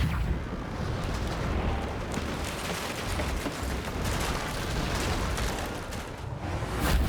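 A Bombarda blasting spell explodes in Hogwarts Legacy, a loud rolling eruption of booms and crackling debris that rumbles steadily throughout and swells again near the end, with no talking.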